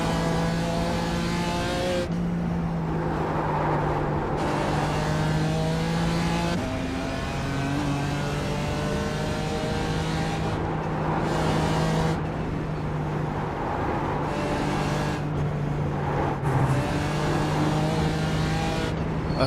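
A Toyota GR86 race car driving on the Nürburgring in iRacing during a six-hour endurance race, engine droning steadily as it climbs and falls through gear changes, loud and constant, with no voices.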